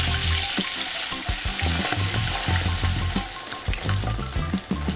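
Pabda fish, rubbed with salt and turmeric, frying in hot mustard oil, giving a loud, steady broadband sizzle with intermittent scraping and clattering and low hum beneath, no voices.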